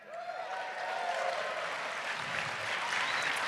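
Studio audience applause on a podcast episode set, steady and dense throughout, with no speech over it.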